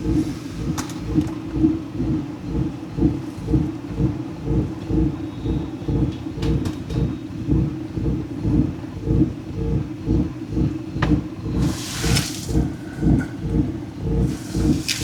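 A BMW E46 engine idles close by, misfiring with a lumpy, uneven pulsing rhythm that stumbles repeatedly, as if missing beats, running steadily throughout.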